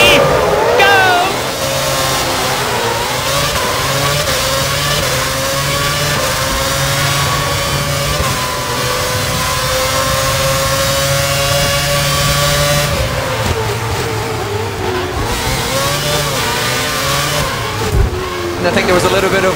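Race cars accelerating off the start at Silverstone, a loud continuous engine roar with rising revs and gear changes, heard under a commentator's voice.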